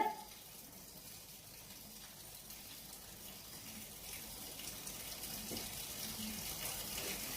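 Fenugreek leaves are washed under a running kitchen tap, making a steady gushing stream of water that grows slightly louder over time, with a faint voice in the background.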